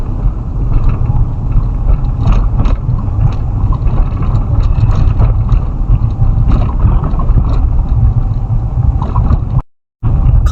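A car drives at night along a zigzag jungle road near Jim Corbett, giving a loud, steady low engine and road rumble with wind buffeting throughout and a brief dropout near the end.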